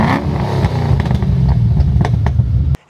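A Holden HSV VF with a supercharged LSA V8 revs hard through a full 3-inch exhaust, a loud, close, continuous roar with crackling blips that cuts off abruptly near the end.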